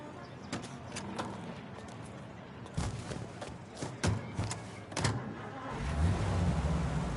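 A car is driven in the video game Mafia Definitive Edition, its engine rumbling steadily under clicks and thuds from the cabin, with the engine note rising toward the end and no talking.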